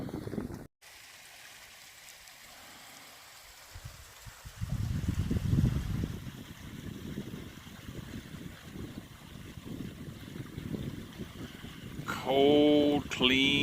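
Cold snowmelt water runs in a small stream near Cody Gap on the Appalachian Trail, a steady close rushing trickle that swells after a quiet stretch, with brief rustling and handling noises.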